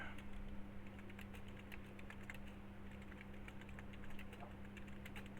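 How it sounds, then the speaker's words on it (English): Steady computer keyboard typing fills the clip, a continuous patter of quick keystrokes close by over a low electrical hum, with no talking. "I'm typing out its effects."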